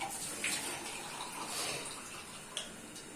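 Water pours steadily into a cooking pot in a Pakistani village kitchen, a soft continuous splashing rush that stays fairly faint throughout.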